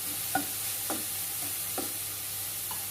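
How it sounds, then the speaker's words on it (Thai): Galangal, lemongrass and kaffir lime leaves stir-fry in oil under a constant soft sizzle, with a spatula scraping the pan about four times, spaced out and close by, and no voices. "ให้น้ำมันมันออก น้ำมันข่าตะไคร้ใบมะกรูดออกเนาะ"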